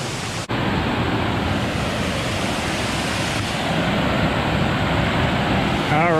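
Cascade along the Ricketts Glen Falls trail, a dense broadband roar of rushing water that holds steady and close throughout, with a brief knock near the start.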